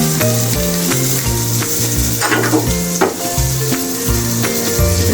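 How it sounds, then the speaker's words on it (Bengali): Tengra fish fries in a pan on a gas stove, making a loud, continuous close-up sizzle with occasional stirring scrapes and a low rhythmic background tone. "হালকা হালকা করে ভাজছি"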